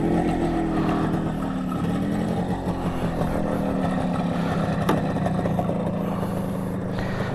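An MZ TS125 motorcycle engine idles steadily at about 2,000 rpm while parked in the shade, giving a close, continuous low rumble with an even, unbroken ticking-over rhythm throughout.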